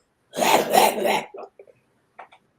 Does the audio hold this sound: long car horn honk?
no